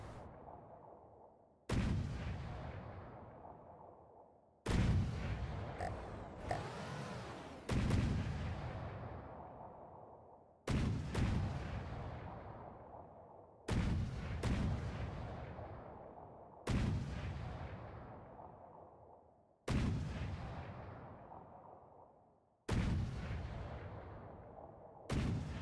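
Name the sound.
CIWS gun firing in From the Depths video game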